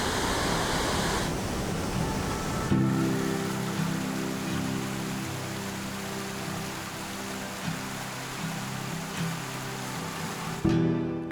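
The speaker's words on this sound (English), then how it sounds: "the impressive Kakabeka Falls and its roaring curtains of water" Roaring curtains of water at Kakabeka Falls in Ontario, a steady broadband rush that stays loud and constant throughout, with a low tonal hum layered underneath for most of the stretch.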